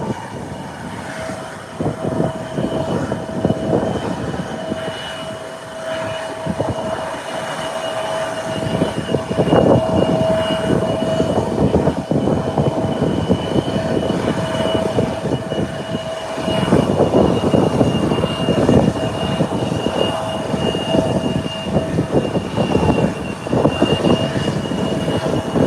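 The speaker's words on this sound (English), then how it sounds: "The tug is pushing back." An airport tug pushes back an aircraft, producing a steady, loud mechanical drone and engine hum with a sustained whine running throughout, alone with no talk.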